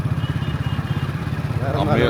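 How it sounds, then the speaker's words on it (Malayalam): A motorcycle engine rumbles with a steady, pulsing throb while riding, loud and close, with a brief rise in pitch near the end. "ബൈക്കിലാണ് യാത്ര."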